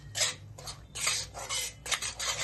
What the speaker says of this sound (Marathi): सारखं ढवळत राहायचं त्याला.